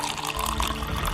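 Liquid splashing and trickling as water is poured into a drink, a brief continuous pour close by with no talking.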